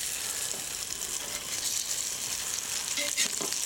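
Tomato steaks frying in a pan, a steady loud sizzle filling the whole stretch, with a few soft scraping touches near the end as the slices are turned.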